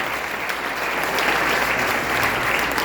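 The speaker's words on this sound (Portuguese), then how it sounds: "Você pode aplaudir nosso time de pastores aí?" Steady congregational applause in a church for the team of pastors, many hands clapping together at an even, full level for a few seconds without speech.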